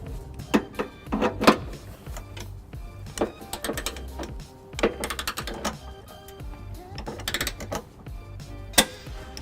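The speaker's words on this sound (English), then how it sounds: "using my torque wrench, 5-inch extension, 3/4mm, I'll be torquing this to 75 pounds." Torque wrench ratcheting and clicking as trailer hitch bolts on a 2003 Pontiac Aztek are tightened to 75 pounds with an extension, giving repeated sharp mechanical clicks in uneven bursts, close and clear, with no talking.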